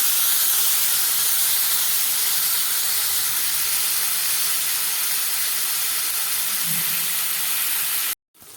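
Onions and tomatoes sautéing in a pan for a vegetarian fish-style curry, a loud, steady broadband sizzle and hiss close by that runs unbroken before cutting off abruptly near the end.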